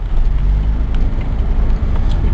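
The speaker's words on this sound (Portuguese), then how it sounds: "Esperando o carro passar." A car rumbles past close by on the road, producing a loud, low, continuous roar for the whole moment.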